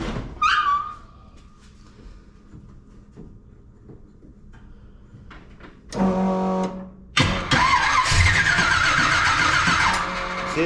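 A 1957 Chevy engine cranks over, with a brief starter whine at first, then quieter stretches before a loud rough cranking burst and a sustained churning turnover near the end, with the ignition timing retarded against the firewall.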